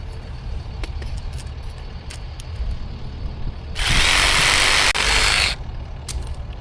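A power tool cuts through septic system pipe in one loud, steady burst of nearly two seconds, with quieter background rumble and clatter before and after.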